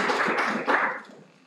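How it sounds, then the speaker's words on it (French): Audience applause at an event on association funding, a steady wash of clapping from many hands that swells briefly, then thins and fades out. "On peut applaudir, bien évidemment."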